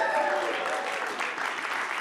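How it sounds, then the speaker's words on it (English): Audience at a public event bursts into applause and cheering, a dense wash of clapping filling the room, moderately loud and steady throughout with faint voices mixed in. "And the crowd goes wild"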